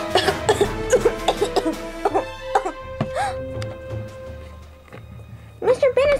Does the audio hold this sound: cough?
yes